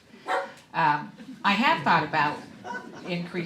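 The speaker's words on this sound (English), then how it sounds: "That's my dog." A dog barks in a short run of sharp barks, close and loud, breaking over a person speaking at a candidate forum.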